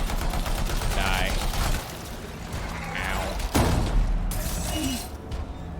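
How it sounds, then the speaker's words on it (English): Gunfire in the video game Anthem: a rapid crackling volley gives way to quieter game sounds, then a single sharp loud shot cracks out, followed by a brief rattling spray of fire. "That was like a gunshot sound."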